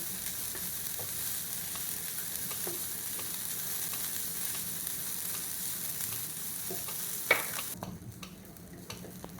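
Grated beetroot sautéing and being stirred in a pan for halwa, a soft steady sizzle with occasional scraping stirs and a sharper clink near the end before the frying quiets.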